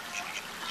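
Ducks quacking at a pond while being fed, a steady soft chorus of nasal calls at moderate distance with no talk over it.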